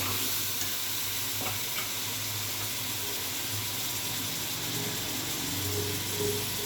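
Beef fries for nihari, a loud, dense and constant sizzle close by with faint scraping and stirring underneath and a steady low hum throughout.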